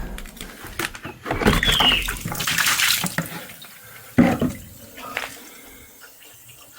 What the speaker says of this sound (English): The water's just pooling here and finding its way down those cracks.